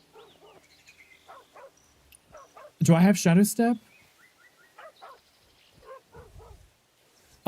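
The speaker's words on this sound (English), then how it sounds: "Oh my god, now they're both barking at me." Dogs barking in a video game: a loud, close burst of several rapid barks in the middle, with a person talking before and after.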